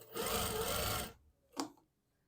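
A sewing machine stitches fabric in a short, fast, steady whir lasting about a second, close and fairly loud, then stops, followed by a brief faint mechanical click.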